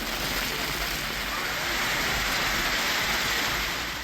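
Heavy rain pours down in Tamil Nadu, a constant loud hiss of water hitting surfaces that stays thick and unbroken from start to finish.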